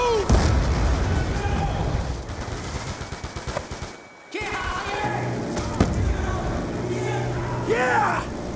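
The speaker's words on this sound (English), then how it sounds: "Grenade, move!" A grenade explodes during a Call of Duty Black Ops 2 campaign firefight, a loud, dense blast amid rattling gunfire and shouted voices, with a brief near-silent gap before the battle noise surges back.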